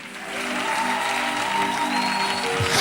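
A church congregation claps and acclaims God, loud continuous applause close by that builds in the first moments and holds steady, with voices and tones mixed in beneath it.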